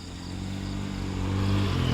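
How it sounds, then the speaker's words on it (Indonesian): A motorcycle engine drones steadily and grows slightly louder over two seconds, a low buzzing hum with no one talking. "Oke, dan ternyata ini ada motor."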